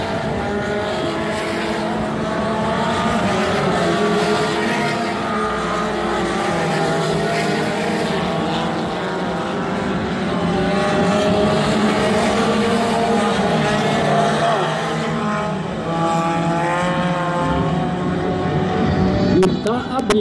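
Race cars of the light category speed around a dirt track at Barródromo de Jacaraípe, a steady loud engine drone throughout with rising and falling revs, under continuous excited Portuguese race commentary and crowd noise.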